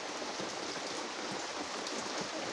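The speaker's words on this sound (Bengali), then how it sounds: "বৃষ্টি পড়ছে ফোঁটা ফোঁটা।" Light rain falls steadily on surfaces nearby, a dense even patter of countless drops with no voices over it.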